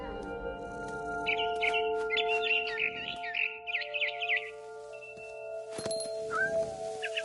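Cat meows and caterwauling cries in the video game What Remains of Edith Finch, a run of fairly faint, close calls over a steady game ambience, with a brief chirp near the end.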